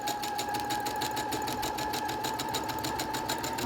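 Sewing machine stitching elastic onto a fabric face mask, a steady fast mechanical whirring with even rapid needle pulses throughout, close and unbroken, with no talking.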